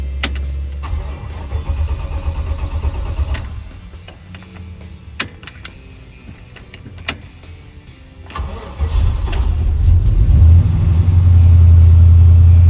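An LT1 V8 engine in a 1957 Pontiac Star Chief cranks and catches, settles into a rumbling idle, then revs up into a loud, deep steady roar.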